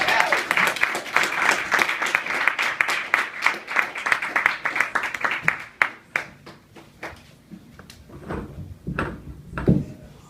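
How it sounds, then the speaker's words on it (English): An audience gives a round of applause welcoming a fiction writer to the stage at a reading event. Crisp clapping is heard for about six seconds, then stops, followed by a few scattered bumps and knocks. "Give him a round of applause."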